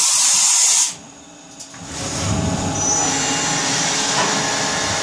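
A 2002 Kia V50D CNC vertical machining center with a Fanuc Oi-M control and 10,000 RPM spindle performs a tool change. A high whine gives way to a brief pneumatic clunk, then a steady loud whirring hum builds and continues.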